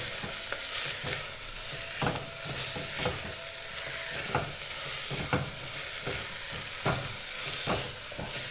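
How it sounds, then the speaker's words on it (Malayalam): Crushed ginger, garlic and slit green chillies sauté in a hot pan for kadala curry, giving a steady, close sizzle with regular sharp taps and scrapes of a stirring spoon. "ഇനി നമുക്ക് ചതച്ച് വച്ചേക്കുന്ന ഇഞ്ചിയും വെളുത്തുള്ളിയും കൂടി ഇട്ട് കൊടുക്കാം."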